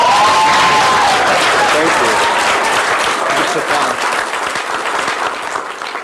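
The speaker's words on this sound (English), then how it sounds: "Round of applause for the goddess" Loud audience applause at a spiritual talk on sex and love, dense close clapping that holds strong and then slowly fades toward the end.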